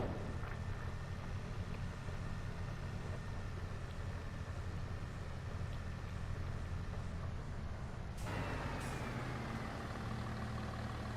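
Tractor hauling a heavy load uphill in Farming Simulator 22, a steady low engine drone under strain that runs on at even loudness, with a shift in engine tone near the end.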